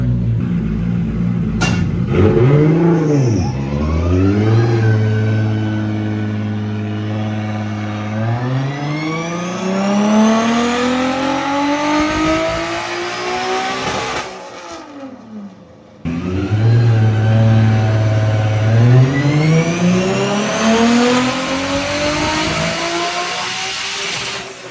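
A fully built 1.5JZ engine screams up toward 8000 RPM on a dyno, loud and close. The note climbs steadily in long sweeping pulls, cuts out briefly, then surges again into another high-revving run.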